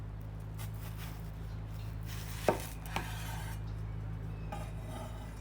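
A knife cuts a red onion into large slices: two quiet, crisp strikes about half a second apart against a board, set in a soft kitchen room hum with no talking.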